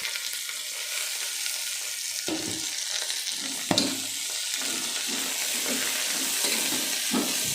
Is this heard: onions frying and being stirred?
yes